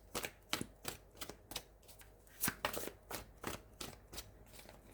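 Tarot cards are shuffled and slapped down one by one, a string of crisp, close riffling snaps and soft taps in an irregular rhythm, fairly quiet with no talking.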